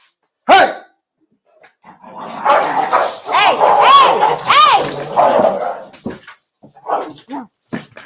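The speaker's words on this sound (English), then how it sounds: "Dog fight." Dogs fighting indoors: a fierce burst of snarling, growling and barking, then yelps and whimpers, with people shouting over the scuffle.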